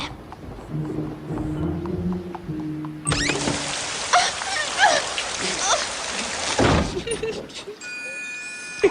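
Rain falls steadily on a surface, a broad wash of patter that grows louder partway through, with a voice talking faintly underneath at the start.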